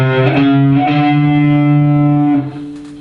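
A distorted electric guitar plays the second half of a lick, a short run of notes moving up the fifth string, loud and close before cutting off and dropping away.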